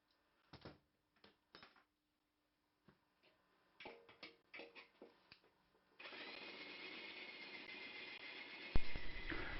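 A drill bores holes in motorcycle parts during a Triumph T140E restoration. Scattered knocks and clicks come first, then the drill whirs steadily and continuously, close by.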